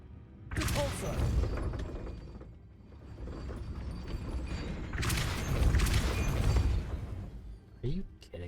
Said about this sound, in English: Repulsor.